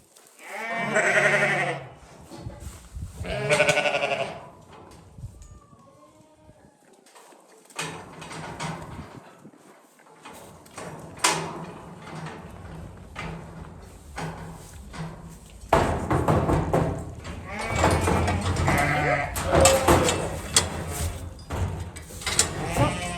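Sheep bleat in a barn during hoof trimming. Several close, wavering bleats come in bursts, with rustling, shuffling and clattering between them.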